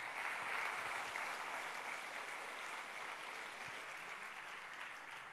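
Audience applause at a film premiere, a dense, steady wash of clapping that holds evenly for several seconds and fades slightly, heard at a distance and fairly quiet.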